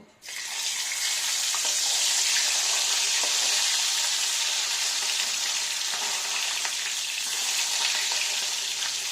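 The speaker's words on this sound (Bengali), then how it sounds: "এবার আমার সর্ষের তেল গরম হয়ে এসছে, আমি মাছগুলো এক এক করে ভেজে নেব।" Pomfret fish frying in hot mustard oil, a steady, dense sizzle that holds loud and close for the whole stretch with no talking over it.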